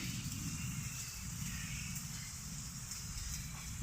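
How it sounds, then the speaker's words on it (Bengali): Soft, steady rain falling on a quiet morning at a prayer hall, a faint continuous hiss of drops heard from a distance with no talking. "অনেক দিন পরে বৃষ্টি হচ্ছে"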